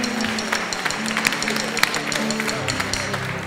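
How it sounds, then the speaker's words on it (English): A church congregation claps during a contemporary worship service, a short burst of steady applause from many hands in the room, with no talking over it. "Let's clap again"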